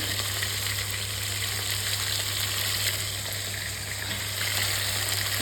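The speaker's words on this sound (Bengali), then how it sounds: "তো এই যে বসিয়ে দিচ্ছি মাছ ভাজা।" Fish pieces frying in a pan, a steady, close, continuous sizzle and crackle of hot oil with a low constant hum underneath, no voices.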